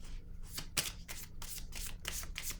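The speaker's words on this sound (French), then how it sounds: "Je vais piger une autre carte." Cards from a tarot-style deck being handled, shuffled and drawn, several quick close papery riffles and slides in irregular bursts, fairly quiet and alone.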